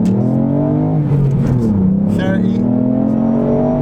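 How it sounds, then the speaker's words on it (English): A 2019 Ford Fiesta ST accelerates hard in first gear, its engine note rising and climbing in pitch as revs build, loud and close, with someone talking over it. "I'm going to put my foot down in first gear now."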